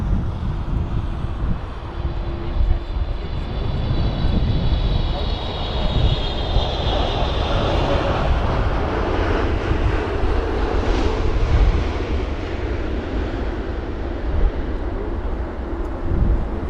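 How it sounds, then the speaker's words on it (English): A Japan Airlines jet airliner arriving from Tokyo sounds over Heathrow on a windy day, a continuous heavy roar with wind buffeting the microphone and a rising whine that fades midway. "So Japan Airlines from Tokyo"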